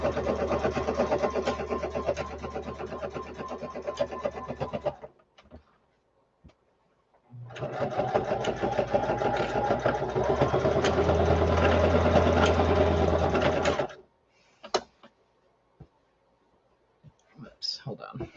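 A sewing machine stitches a scrappy drawstring bag, whirring steadily with a rapid clicking needle in two sustained runs of about five and six seconds, separated by a brief pause and followed by a few faint handling clicks.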